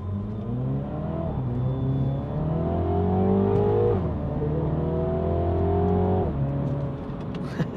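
A MINI JCW accelerates hard in sport mode, its engine note rising repeatedly and dropping briefly at each gear change across several climbs, loud and steady throughout, with no speech.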